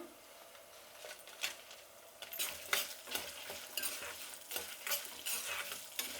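Coriander seeds, cumin and dried red chillies crackle and sizzle in hot oil with frying toor dal. A spoon stirs and scrapes the pan in quick bursts, and no one speaks.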